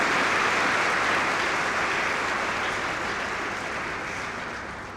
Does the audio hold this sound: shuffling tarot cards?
no